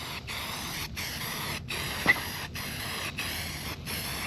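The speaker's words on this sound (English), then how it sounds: "spray the carpet." Quiet, repeated hissing spray bursts from a spray bottle onto the carpet of a 1985 Mustang GT, in a steady rhythm, with a brief click partway through.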